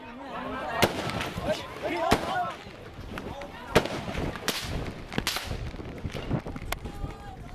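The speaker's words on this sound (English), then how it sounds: "The next day, soldiers shoot into the crowd of protesters." Gunfire as soldiers shoot into a crowd of protesters: sharp cracking shots at irregular intervals, some near and loud, others further off, over a noisy background of crowd commotion and movement.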